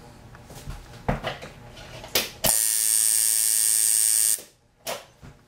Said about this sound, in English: The next thing we want to do is plug it into our power supply and see what we're running on our numbers.